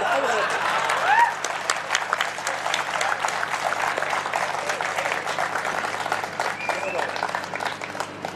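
Listeners at a political speech in Latur applaud, with a dense patter of many hands clapping that swells early and carries on steadily at moderate volume throughout.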